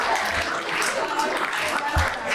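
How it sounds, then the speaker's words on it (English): Audience at a talk at Montclair State clapping for Ashley, a short dense burst of applause with voices mixed in. "Let's give Ashley a round of applause."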